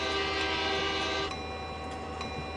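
A diesel passenger train's horn in the Train Simulator 2020 game sounds loud and steady for over a second, then cuts off, leaving continuous engine rumble and rail noise.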